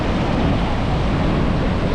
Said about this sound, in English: So I guess the waves are really choppy today